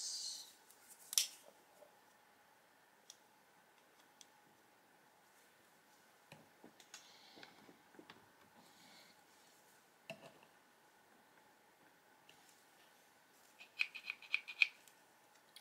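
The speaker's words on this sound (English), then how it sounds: "Okay, we want to get our really nice scissors." Scissors snip at paper in a quiet room, producing scattered crisp cuts and rustles at irregular intervals, with a faster cluster of small snips near the end.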